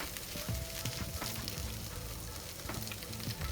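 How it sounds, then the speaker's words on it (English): Cheese melting for queso blanco sizzles and crackles in a hot pan, with soft scraping of a stirring utensil running steadily and close throughout. "Stir up that cheese."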